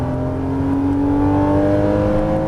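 A Porsche Cayman S accelerates at full throttle on the Issoire circuit. Its engine drones loud and steady with a slowly rising pitch, heard from inside the car, with no talking.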